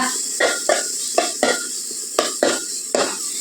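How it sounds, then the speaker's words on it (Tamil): Tomatoes and capsicum are stirred and sautéed in a pan, a spoon scraping and clinking against the metal in about eight rhythmic strokes over a soft sizzle, close and clear. "தக்காளியும் குடமிளகாவும் சேர்த்துட்டு ஒரு 10 நிமிஷத்துக்கு நல்லா கிண்டி கொடுத்து வதக்கிக்கோங்க"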